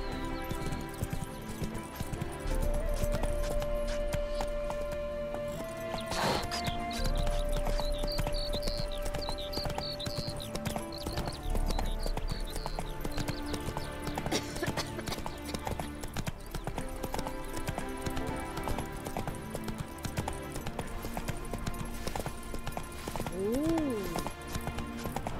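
Roach the horse galloping in The Witcher 3, a steady rapid clip-clop of hooves throughout with a whinny partway in, over game music and a few spoken lines.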